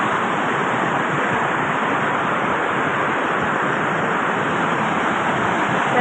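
A river rushing past at close range makes a loud, steady roar of churning water that holds constant without a break, heard alone.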